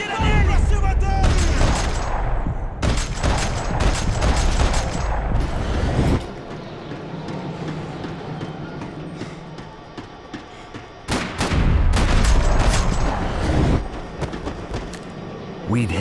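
Heavy gunfire in the game Max Payne 3 inside a São Paulo place of worship, with loud dense bursts and thuds from the start to about six seconds, a quieter lull with distant shots, then another close, loud barrage near the end.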